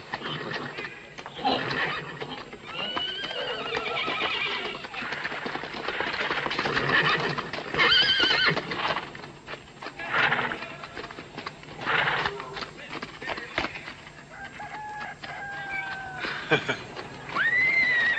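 A horse whinnies repeatedly while hooves clip-clop, with the neighs rising in loud, drawn-out bursts over the hoofbeats and some voices in the background.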